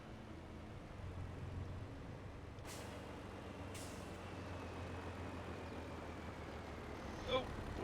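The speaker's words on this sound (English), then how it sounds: "these Volvos need freaking improvements on their brakes" A Volvo truck in a farming simulation game lets out two short, sharp air-brake hisses about a second apart. Both are faint over a low, steady engine drone.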